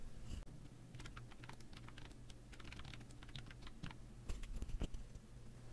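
Keys clatter on a computer keyboard as a project name is typed into an online circuit-board order form, a quick run of close, irregular clicks over a steady low hum, with no talking.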